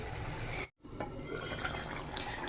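Water poured into a pan of egg curry masala in a home kitchen, a steady liquid wash broken by a brief pause before it resumes, close and moderately loud with no talking.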